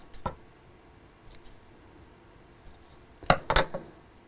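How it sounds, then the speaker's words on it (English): Scissors snipping the thread ends off a sewn fabric piece during a sewing session, a single soft snip followed later by a quick pair of sharper cuts, close and faint against quiet room tone. "Let's snip the ends of this off."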